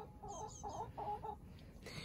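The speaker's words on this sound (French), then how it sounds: "C'est une jeune poule." A young hen clucks in a quick series of soft, close, rhythmic clucks, then goes quiet before a short rustling noise at the end, with no talking.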